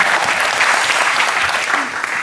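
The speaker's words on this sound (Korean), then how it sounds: "우리 격려의 박수를 우리 모두에게 한번" Church congregation at an Easter service breaks into loud, steady applause, dense clapping filling the short stretch without pause.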